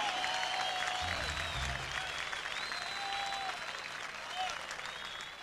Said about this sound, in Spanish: poquito de aplauso por mi hermano Andy Harold cantando Pedro Brull